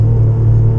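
Alfa Romeo 147 GTA engine noise during a road test, a loud, deep, steady droning rumble heard from inside the car for under a second.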